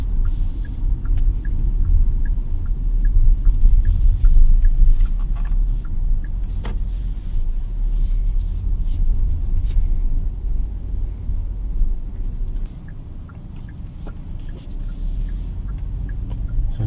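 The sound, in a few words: 2024 Kia Sonet 1.5 SX car driving in city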